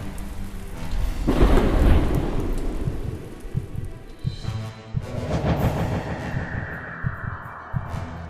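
A cartoon storm effect of wind and hail roars in with a deep rumbling swell, then rattles into dense pattering and crackling impacts, loud and continuous.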